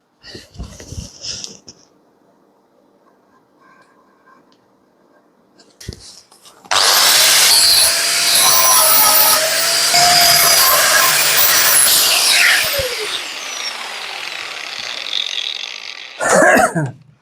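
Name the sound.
angle grinder grinding metal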